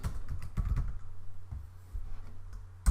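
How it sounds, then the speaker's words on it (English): Typing on a computer keyboard while entering a form label, with clustered close key clicks over a low steady hum, somewhat irregular in rhythm. "we'll just type in employee status"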